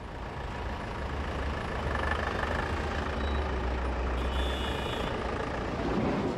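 Trucks and buses descending the foggy Leh-Manali mountain road in India, a steady loud engine drone and rumble with intermittent beeping, heard close with no talk.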